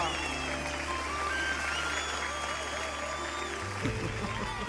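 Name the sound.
crowd clapping in film scene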